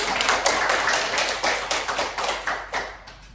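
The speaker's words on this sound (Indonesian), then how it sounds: "tepuk tangan dulu untuk ibu" Children in a classroom clap together for their teacher, a dense, steady burst of many small hands with a loose rhythmic pulse, fairly close and lasting a few seconds without talk.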